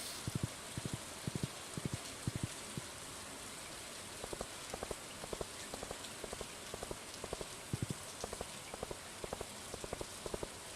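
Rain falls in the Stardew Valley video game as a steady, even hiss, with short clicking taps repeating in small regular clusters throughout. No one speaks.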